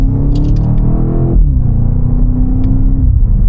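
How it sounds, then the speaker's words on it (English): A 2025 BMW X5M Competition pulls in second gear in Sport Plus mode, a loud close cabin engine rumble that rises, then drops as the revs fall away and settle into a steady hum. "And we are still in the Sport Plus settings, second gear."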